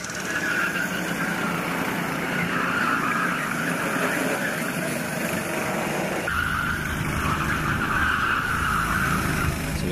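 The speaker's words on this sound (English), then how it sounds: "So we see karts heading into their fourth mandatory stop." Racing karts lapping a circuit during a six-hour endurance race, a steady roar of engines with tyre squeal, close and continuous, one tone shifting as a kart passes, with no talk.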